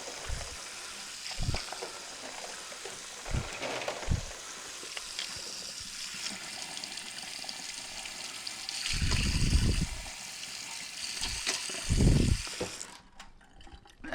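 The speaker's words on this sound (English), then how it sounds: "I've already got the water running hot" Hot tap water runs steadily into a kitchen sink while e-liquid bottles are rinsed under it, a continuous hiss with a few low knocks from handling, then cutting off near the end.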